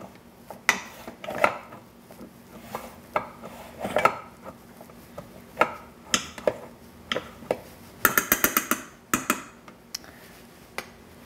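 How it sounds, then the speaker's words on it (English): A fork scoops and folds cooked rice in a rice cooker, giving a string of light scraping clicks and soft taps against the pot, irregular and close, with a brief quick rattle of contacts partway through. "So I'm just going to scoop and sort of fold the rice."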